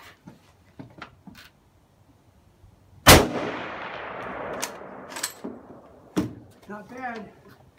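A Holland & Holland Modele De Luxe rifle in .375 H&H Magnum fires one loud, sharp shot at an outdoor range, with a long reverberating tail and scattered clicks and handling noises before and after.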